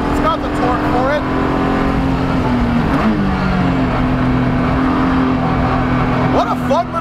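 A BMW E46 330ci built to Spec E46 track trim pulls hard out of a corner around 4,000 RPM, its engine droning loud and steady from inside the car; someone talks over it.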